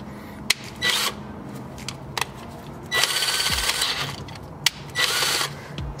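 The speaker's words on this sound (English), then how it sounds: "we're just gonna let the drill eat this thing" A drill grinds and clatters steadily, enlarging a bolt hole in a metal flywheel, with repeated harsh scraping bursts and sharp clicks close by.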